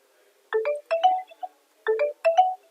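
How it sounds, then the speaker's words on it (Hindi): An SMS notification tone on a cell phone, two identical bursts of short bright electronic chimes, each a quick rising run of notes, clear and close against silence. "अब मेरे सेल फोन पे एक एसएमएस आएगा"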